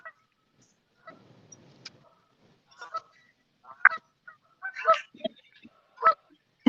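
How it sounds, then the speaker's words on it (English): Geese honking near a lake, several scattered calls of varying loudness at middling distance, with quiet gaps between them and a low rumble early on. "Who's that out there hanging out with those geese?"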